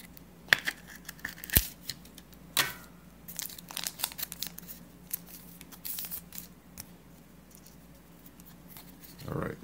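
A grab bag package of Magic: The Gathering cards is cut open, giving a scatter of close crinkling, tearing and snipping sounds, with sharp plastic crackles in irregular bursts over a quiet background.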